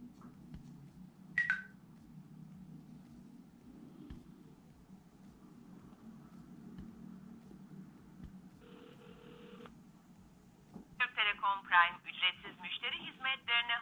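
Smartwatch phone-call dialing tones from an IWO Ultra 8 Mini, a short steady tone followed by a quick run of beeps, fairly faint over low room hum, with no one talking.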